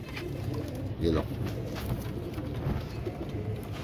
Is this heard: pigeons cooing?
yes